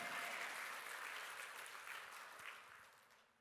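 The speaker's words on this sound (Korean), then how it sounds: "박수로 아멘." Church congregation clapping as an amen after a sermon, a soft, even wash of many hands at a distance that slowly tapers off over roughly three seconds, with no voices on top.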